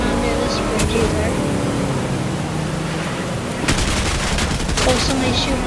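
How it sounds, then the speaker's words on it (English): Bursts of gunfire from other players in a video game, sharp rapid shots over a loud, constant vehicle engine drone, fairly close and continuous. "Oh, somebody's shooting us."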